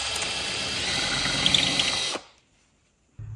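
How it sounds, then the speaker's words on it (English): Power drill boring a hole through a wooden circle jig for a circular saw, a steady loud whirring whine for about two seconds that stops abruptly, followed by near silence and a faint low thump. "I'm just gonna drill a hole"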